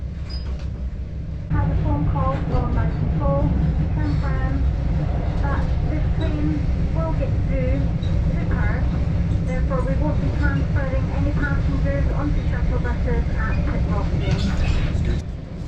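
An Inter7City HST diesel train running from Inverness toward Perth along the flooded River Garry, with a steady loud rumble and engine drone throughout and people talking over it.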